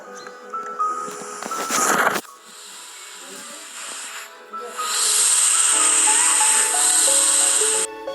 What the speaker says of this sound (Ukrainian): ці метелики труть свої лапки об крила і тим самим видають звук, схожий на шипіння змії